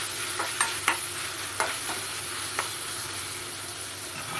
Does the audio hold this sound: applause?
no